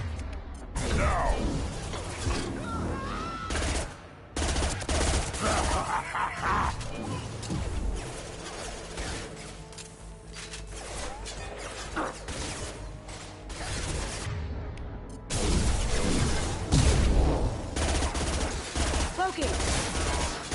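Gunfire in the video game Mass Effect 2, with dense bursts of shots and crashing impacts during a firefight, loud and sustained with short breaks and game voices mixed in.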